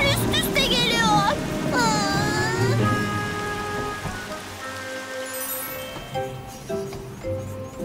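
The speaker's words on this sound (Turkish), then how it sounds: "Yağmur yağıyor." Cartoon rain falls as a steady wash of patter in an animated children's show about a little train. Bright musical tones and voices play over it, and the rain stays continuous beneath them.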